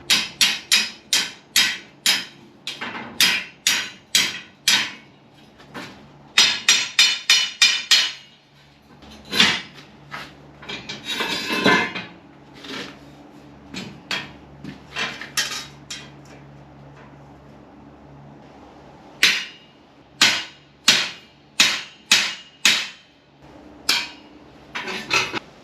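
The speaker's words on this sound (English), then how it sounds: "It's time to get this thing riveted together now." Rivets are hammered to join the parts of a hand-forged Victorian workshop jib crane, with bursts of sharp, ringing metal-on-metal blows in quick runs separated by pauses and lighter clinks, close and loud.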